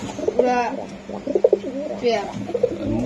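Racer and high-flyer pigeons give soft, low repeated coos close by, several short bursts under someone talking in Bengali.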